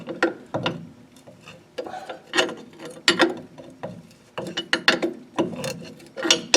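A ratchet wrench with a swivel socket works a tight bolt on a Ford dual servo drum brake, giving bursts of rapid clicking in short uneven strokes, close up and loud, with no speech.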